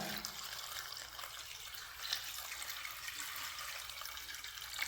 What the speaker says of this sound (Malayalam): ഇനി നമുക്ക് ഇതിലേക്ക് ഇതാ വേവാൻ ആവശ്യത്തിന് കുറച്ച് വെള്ളം കൂടി ഒഴിച്ചു കൊടുക്കാം